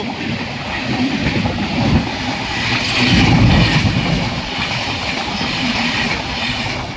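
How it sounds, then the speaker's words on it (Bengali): The Howrah–Digha Tamralipta Express passes through Nandakumar station as a loud, steady rumble of wheels and carriages, swelling and easing over several seconds with rhythmic clatter on the rails. "এটা হাওড়া দীঘা তামলুতু এক্সপ্রেস এই নন্দকুমার নন্দপুর স্টেশন থেকে পাশ হলো"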